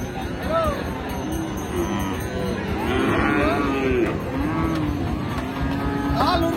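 Friesian and cross-breed bull calves moo repeatedly and loudly at a busy cattle market in Raniganj, amid a murmur of people talking and bargaining nearby.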